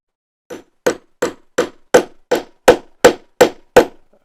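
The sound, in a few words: hammer striking a rivet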